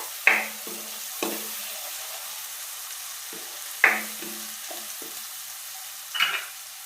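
A dum aloo mixture with garlic paste is stirred in a pan as it cooks, giving a few distinct scraping knocks of the spoon spaced apart over a quiet, faint sizzle.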